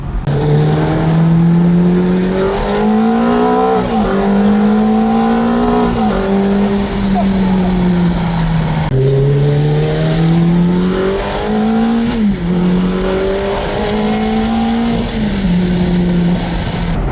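A 490 HP car accelerates hard through the gears, its engine note climbing in repeated rising sweeps. Each sweep drops abruptly at a shift, then pulls again. It sounds loud and close, with no talking.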